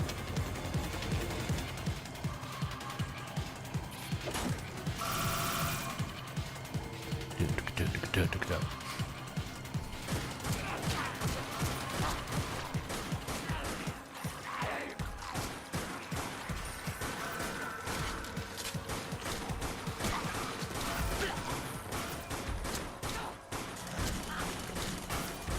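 Rapid clattering gunfire from the zombie shooter game Dead Nation, dense bursts of cracking shots and mechanical clicks running almost continuously, with someone talking over them.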